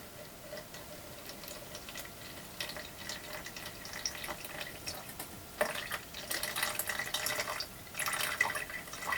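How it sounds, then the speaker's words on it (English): Water is gently siphoned off rock tumbling waste slurry in a bucket, a faint trickling with scattered ticks and drips, growing a little louder and splashier toward the end, with no voices. "all I'm going to do is siphon off this top layer of water as gently as I can"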